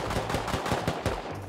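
Automatic gunfire in the survival game Rust: a fast, even burst of about eight shots, fairly loud and punchy, with no talk over it.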